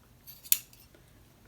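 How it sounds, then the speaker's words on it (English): Two sharp scissor snips, one in the middle and one at the very end, with quiet rustling between them. "take my scissors and just cut this off"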